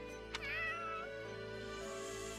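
In the video game Fire Emblem Warriors: Three Hopes, a cat gives a single short, faint meow against a quiet background of game music.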